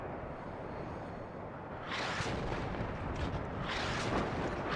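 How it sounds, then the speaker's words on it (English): Multiple launch rocket systems fire salvos in the video game Warno, a rumbling roar with two strong whooshing bursts of rockets launching a couple of seconds apart, loud and close, with no talking. "I like to get nice views of the salvos starting off."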